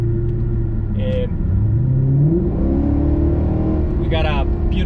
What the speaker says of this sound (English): we got a beautiful exhaust that we can listen to and enjoy the car